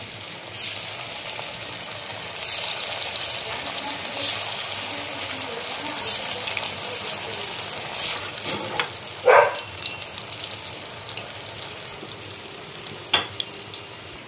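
Soybean kofta balls fry in hot oil, making a continuous close sizzle. A louder burst of spattering comes midway, with occasional clinks of a utensil.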